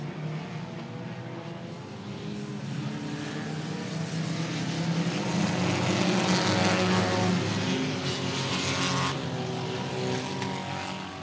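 A race car at Cotton Bowl Speedway roars as the driver stabs the throttle and holds it down, a loud, sustained engine drone that swells toward the middle and stays strong to the end.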